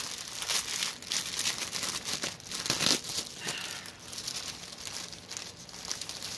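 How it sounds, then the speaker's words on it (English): Thin plastic bag packaging from a cross stitch kit crinkles and tears close up, a run of irregular crackling rustles and sharp rips with no talking. "Terrible plastic bags."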